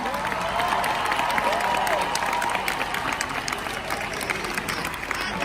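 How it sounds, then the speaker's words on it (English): A large pageant audience at Miss Universe 2019 applauds and cheers steadily, a dense roar of clapping and crowd noise that holds at a constant loud level throughout. "give her a big round of applause"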